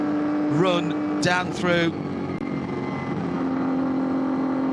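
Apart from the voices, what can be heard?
Porsche race car driving flat out at the Nürburgring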